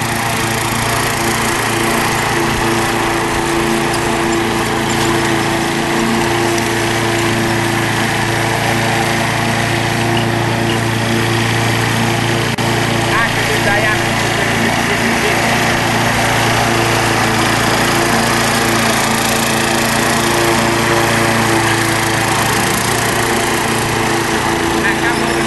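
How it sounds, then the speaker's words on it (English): A small robotic lawn mower motor hums continuously at a steady pitch, close by and unchanging over the whole stretch. "point the lawnmower the other way to unwind"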